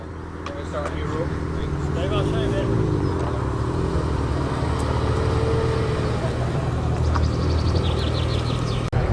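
Classic Austin Healey 100-6 sports car from around 1956 driving past at a classic car gathering, its engine a steady rumble over crowd noise, with talk throughout.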